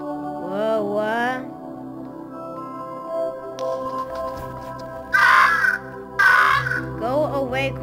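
Crow-like characters in the puzzle video game Monument Valley caw in harsh, repeated bursts, a few loud squawks standing out over a steady layered game music bed, with no talk.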